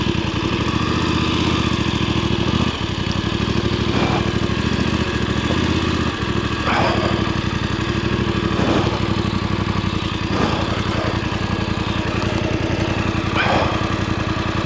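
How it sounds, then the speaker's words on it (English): A Voge 900 DSX motorcycle idles steadily close by on loose, shaly mountain ground, its engine a continuous low rumble with a few faint knocks and shifts and no voices. "I'll get the bike down there and park it somewhere safe"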